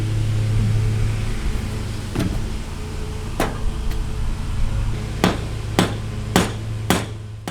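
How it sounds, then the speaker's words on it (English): Sharp metallic hammer strikes on a utility boat trailer's wheel bearing, six or seven separate loud clanks spaced irregularly about a second apart, ringing close over a steady low hum; no voices. "Just hit it repeatedly, spinning the wheel, creating a consistent vibration, and it will break free."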